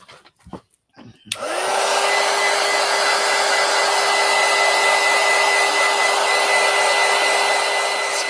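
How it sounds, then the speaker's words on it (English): A heat gun dries gold paint on a Valentine coloring craft. After a few faint knocks, it switches on and gives a loud, steady, close blowing whir that holds unbroken for about seven seconds. "I should hit it with the heat gun."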